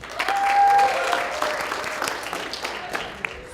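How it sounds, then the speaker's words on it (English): A TEDx audience in Sugar Land breaks into sustained applause for a spoken-word poet, a dense wash of clapping from a full room, with a brief whistle near the start and scattered voices. "Let's have a huge round of applause for Emmanuel Outspoken Bean."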